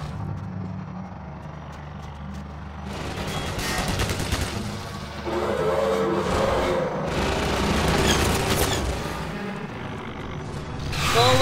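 Video game combat in which bug enemies open fire on the player: dense bursts of shots and booms sound over a steady mechanical background, building from about three seconds in and staying loud to the end.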